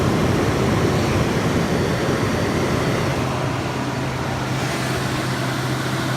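A Frigidaire 8000 BTU window air conditioner runs with a loud, steady broadband whoosh of fan airflow and a faint low hum underneath, close and unbroken for several seconds.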